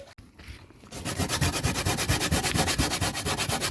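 A coconut grater shredding coconut outdoors in the rain, heard as steady, rapid rhythmic rasping strokes close by, starting after a brief quieter moment and continuing evenly.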